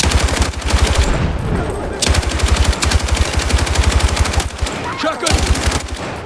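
Rapid machine gun fire sounds in the video game Battlefield 6 as sustained close bursts with short pauses between them. Voices and other combat noise sit faintly underneath.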